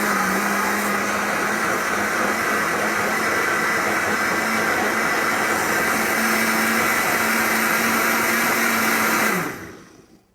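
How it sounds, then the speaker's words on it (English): A blender blending tomato soup whirs loudly and steadily for about nine seconds with a constant motor drone, then winds down and stops. "I'm going to start this and get it blending."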